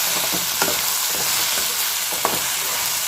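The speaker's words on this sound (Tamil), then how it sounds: "நல்லா வதக்கிக்கிறோம்" Okra sautéing in a pan for a Tamil vendakkai mandi, with a steady hiss of frying and a few scrapes of stirring, close and continuous with no voices.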